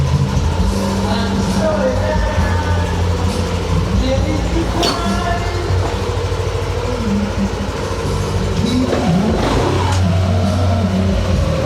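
Yamaha Nmax Techmax scooter fitted with an aftermarket CVT set and 1000 rpm center spring, engine rising as it accelerates, a steady loud drone with a mechanical whine and some background noise throughout.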